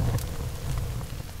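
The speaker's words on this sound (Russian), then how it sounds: "Снова дождь. Каждое утро дождливое." Rain falls steadily in the survival video game The Forest, a dense, even hiss with a low rumbling bed and a few brief brighter spatters, with no voices.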